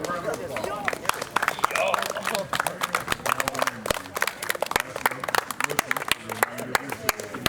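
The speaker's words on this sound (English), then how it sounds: "Let's give all of these extraordinary young men another round of applause." Applause and cheering for senior players at a high school tennis senior night, irregular sharp claps scattered through a lively crowd with voices chattering over them throughout.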